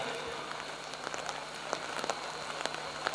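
Steady rain pours down over an evening outdoor graduation ceremony at an Islamic boarding school, a continuous dense hiss with scattered sharper drop taps close by.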